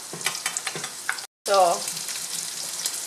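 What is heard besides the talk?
garlic frying in a pan with bacon and pork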